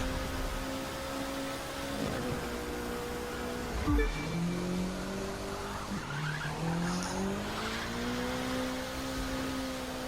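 Racing cars in The Crew 2 video game roar steadily with rising and falling engine tones, a sharp tire skid near the middle and another engine swell toward the end, loud and continuous with no voices.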